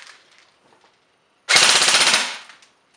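A JG Mag K airsoft gun running on a 7.4 volt, 2000 mAh, 25C LiPo battery fires a single full-auto burst of about a second, a rapid, loud, evenly spaced rattle that begins abruptly and stops cleanly.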